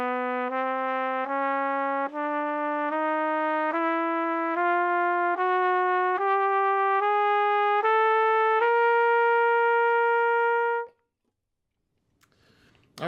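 Trumpet climbing a chromatic scale from low to high, one clean sustained note after another in an even stepwise rhythm, close and clear, then silence and a faint rustle at the end.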